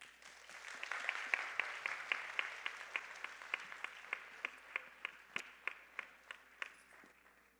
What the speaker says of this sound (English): Please give a huge round of applause to Maha Garika.